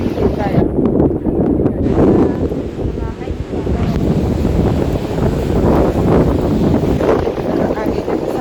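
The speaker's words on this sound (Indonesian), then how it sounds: "Anginnya besar banget dan hujannya deras banget ya." Strong typhoon wind roars loud and continuous at close range while outdoors in a park, with buffeting gusts and a broad rushing wash that fits heavy rain, sustained without break throughout.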